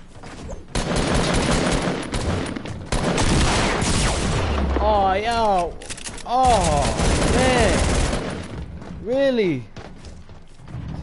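Video game gunfire crackles in dense, loud bursts and volleys throughout, with a voice speaking over the shooting.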